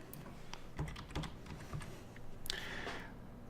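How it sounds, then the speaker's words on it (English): Keys clack on a computer keyboard in a short, quiet burst of uneven taps, followed by a brief louder click and rustle near the end. "I'm going to type in maizeflour"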